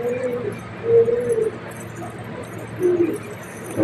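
Domestic pigeons coo softly in a few short, low calls spread across the moment, set against quiet background ambience.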